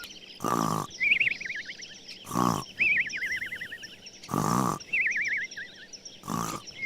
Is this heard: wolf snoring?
yes